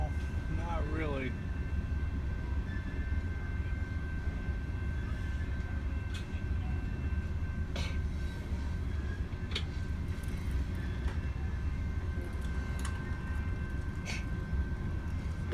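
A train rolls along near Perry, Michigan, with a steady low rumble and a constant thin whine, dotted with occasional metallic clanks, while a brief voice sounds early on.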